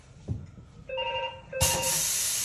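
A telephone in a motorcycle workshop rings during a tyre fitting, giving a short electronic ring. A sudden loud hiss of air follows close by.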